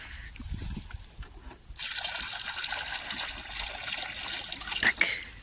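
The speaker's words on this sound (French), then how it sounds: "On va leur remettre de l'eau." Water gushes steadily from a tap or container into a drinking trough for farm animals, starting after a brief quiet moment and running continuously at close range.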